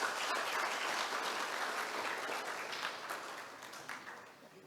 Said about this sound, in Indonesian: Kita tepuk tangan untuk semua dulu.